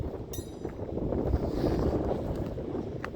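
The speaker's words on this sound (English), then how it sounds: "Oh, it's so windy. So windy here." Gusts of wind buffet the microphone while walking outdoors in a low, rumbling roar that rises and falls steadily, with no talking.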